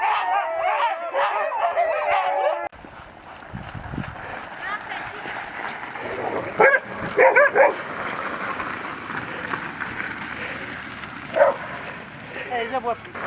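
A dog barks and yips in short bursts, some whimpering or howl-like notes, mixed with ambient outdoor noise and occasional voices, at a mountain pass in the French Alps.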